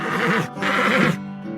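A horse whinnies loudly and close in two drawn-out bursts, the second trailing off into a quieter tail, heard alone with no talk.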